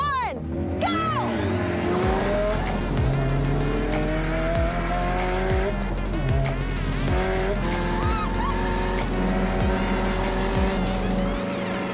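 A Ford Roadster drag racing a turbocharged hybrid hot rod: loud, steady engine roar with rising tones and repeated gear-change dips, tire squeal mixed in, and voices talking over it throughout.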